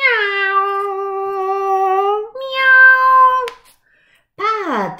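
A human voice imitates a cat with three drawn-out, loud meows, the last one rising and falling sharply, with short pauses between them.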